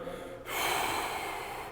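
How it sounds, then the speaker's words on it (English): One deep breath drawn in through the nose and mouth, a soft then rising airy inhale lasting over a second, close and quiet, during a mobility stretching class. "We're going to take a nice big deep breath."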